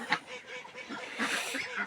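Domestic poultry, geese and ducks, let out of their shed, giving a few scattered honks and quacks at close range, with a brief human voice mixed in.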